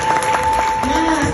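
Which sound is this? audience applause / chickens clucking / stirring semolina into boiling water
audience applause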